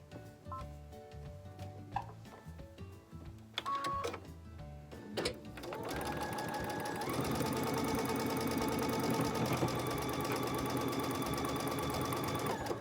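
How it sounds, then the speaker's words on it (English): A sewing machine stitches a quarter-inch seam along one side of a quilt block: a few scattered handling taps and clicks, then a steady, close, continuous mechanical whir and rapid needle chatter running without pause to the end. "we're gonna sew a 1/4 inch seam on one side of that block"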